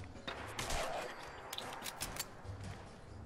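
Rapid-fire weapon shooting in Fallout 4: a fast burst of sharp shots, then a string of separate cracks, moderately close, over a busy game background without speech.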